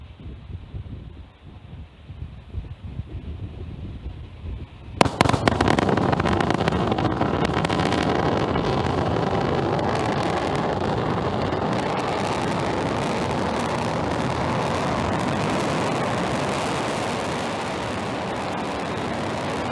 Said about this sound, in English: Stage 1 landing burn